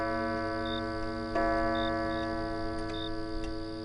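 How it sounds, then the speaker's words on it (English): A clock bell sounds the hour at four o'clock in the dark: one struck chime rings out and fades over steady sustained tones and soft ticking, with no voices. "As the bell sounded the hour"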